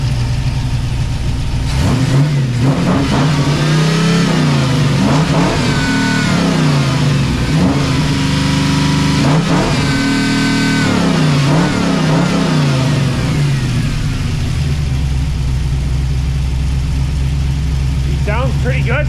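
A 1979 Pontiac Firebird V8 idling rough and rich, then blipped through repeated loud revs that rise and fall in a steady rhythm before settling back to idle.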